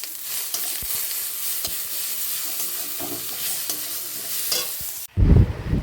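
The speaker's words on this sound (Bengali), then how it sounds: "তো তার জন্য কিন্তু বেশ ভালো কষিয়ে রান্না করতে হবে, ইনফ্যাক্ট সয়াবিন কষা" Soybean chunks stir-fried with spices in very little oil: a loud, continuous close sizzle with stirring scrapes, ending in a brief low rumble of handling.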